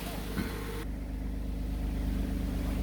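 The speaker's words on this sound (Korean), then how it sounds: "엔진 소리의 필링을 느끼기 위해서 잠시 걸어 두겠습니다" A Kia K7 LPG sedan, 170,000 km on the clock, idles with a steady, low, even hum from close by, with no voices over it.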